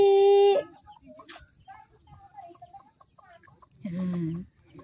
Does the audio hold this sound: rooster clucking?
yes